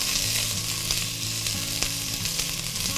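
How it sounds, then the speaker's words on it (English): Onion sautéing in a pan while being stirred for cauliflower soup, producing a continuous close sizzle with occasional light scrapes and clicks from the utensil, loud and steady with no talking. "You want to constantly stir your onion so one side of it doesn't cook more than the other side"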